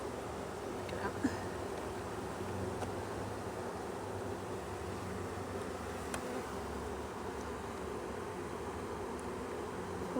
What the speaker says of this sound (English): There's some bees in there right now